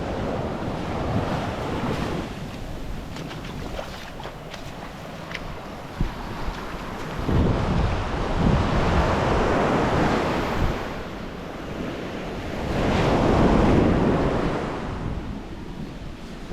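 Surf washing onto the beach at Relax Bay, Koh Lanta, Thailand, in low season, heard as continuous rolling waves with swells building and receding, mixed with wind buffeting the microphone and no talking.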